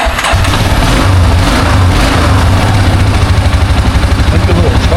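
A Yamaha TerraPro engine cranks and catches, then settles into a loud, rapidly pulsing small-engine idle with a steady throbbing rhythm close to the listener.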